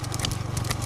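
Hooves of a single bull pound in quick rhythmic clip-clop during a big single-bull cart race at Madhavaram, Chennai, close and steady with a faint engine hum underneath.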